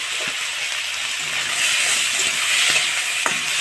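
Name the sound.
prawns with garlic, onion and green chili frying in pan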